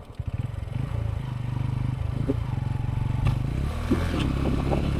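A Honda CB Hornet 125 motorcycle engine labours on the high mountain climb to Umling La, with a steady low throbbing drone and some clatter and scraping on top, continuous and loud throughout.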